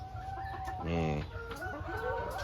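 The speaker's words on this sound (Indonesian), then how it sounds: "ini kayak ayam KUB nya jenis ayam KUB 2 Narayana ya guys, yang hitam, yang kaki hitam" KUB Narayana and Elba laying hens in battery cages clucking close by, with one louder drawn-out call rising over soft background clucks and a brief spoken word.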